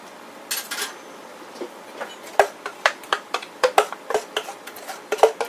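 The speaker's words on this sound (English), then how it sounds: "Pour my batter in." Chocolate pumpkin bread batter goes into a baking pan with a string of soft, irregular taps and scrapes from a utensil against the pan, quiet and close, with no talking.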